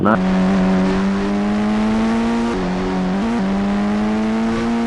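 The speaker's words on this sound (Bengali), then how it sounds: "এই দেখো racing car, beautiful racing car" Toy racing car engine sound, a loud, close, steady buzzing rev with a sustained electronic tone that shifts pitch slightly twice, running continuously with no pauses.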